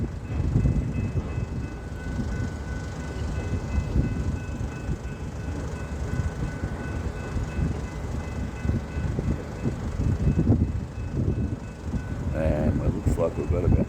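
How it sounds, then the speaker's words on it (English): A long freight train of about 30 carriages on the Stony Point line in Australia rumbles steadily past up close, a continuous low roar of wheels and cars rolling by for the full length with no break. "It's quite a long train here."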